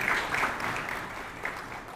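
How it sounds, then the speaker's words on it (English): An audience at a trade and logistics business forum in Tanzania gives a round of applause for a sponsor, steady dense clapping filling the short stretch at moderate volume. "A big round of applause to DP World."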